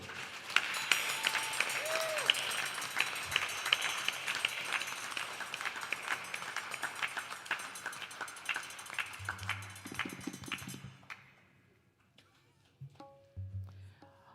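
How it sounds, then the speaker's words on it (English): Audience applause at a temple's 26th anniversary celebration during a Ramayan Yagna in Mississauga, a steady clapping crowd that fades out toward the end, with a few voices afterward. "When I ask you to give a round of applause this time, I want you to put jor se."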